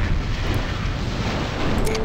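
Mechs blowing up in the MechCommander video game, a loud, dense, continuous rumble of explosions that fills the whole stretch without a break.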